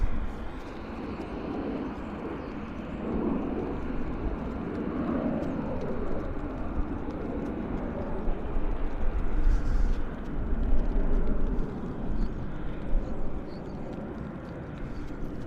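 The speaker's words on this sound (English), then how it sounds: "Here's the A321 that just landed. Taxiing right here." An Airbus A321 airliner taxis after landing at Vancouver Airport, a low, steady jet engine rumble and hum at a moderate distance that swells slightly midway.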